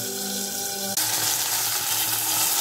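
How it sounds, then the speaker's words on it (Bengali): Fish frying in a pan at home gives a loud, continuous sizzle that jumps in intensity about a second in, as though the fish has just been added or turned, crackling steadily up close. "আমাদের বেগুন ভাজা শেষ, এখন মাছও ভাজা হবে।"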